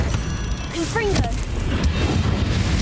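A Confringo explosive spell goes off in Hogwarts Legacy as a short, punchy blast with sharp impacts, layered over game music and rising tonal effects. A voice is heard in the mix.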